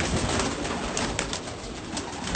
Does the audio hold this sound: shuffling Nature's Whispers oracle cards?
no